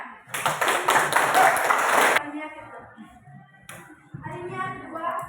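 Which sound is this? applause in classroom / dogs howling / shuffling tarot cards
applause in classroom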